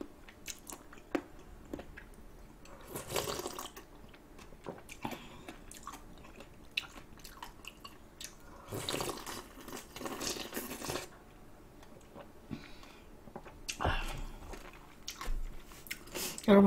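Chicken feet are chewed and bitten at close range during a Korean eating show, with wet, crunchy bites arriving in scattered bursts between quieter stretches of smacking.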